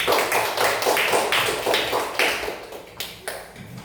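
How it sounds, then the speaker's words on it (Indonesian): Students in a classroom give a group a round of applause, a loud, somewhat uneven burst of many hands clapping close by that thins out toward the end. "Beri tepuk tangan dulu untuk kelompok 3"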